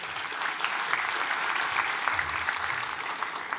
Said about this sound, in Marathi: एकदा जोरदार टाळ्या तिच्यासाठी.